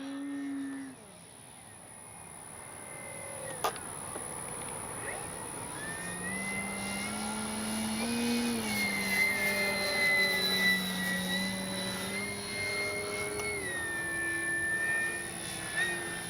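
A large FLEX RV-8 60E G2 electric RC model plane drones overhead as its prop whines, rising and falling in pitch while it manoeuvres at a distance, with a brief click early on.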